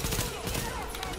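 Gunfire from the Tom Clancy's The Division video game: a short, dense burst of rapid shots, loud and close, with a voice faintly underneath.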